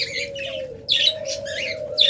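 Budgerigars in a bird seller's cage give bright, close chirps and short warbling bursts over a thin sustained tone, with no voices.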